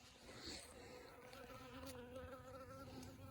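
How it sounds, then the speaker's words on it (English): Bees buzz steadily nearby, a continuous droning hum that rises and shifts in pitch as they move about, with no voices. "We got a couple of bees here"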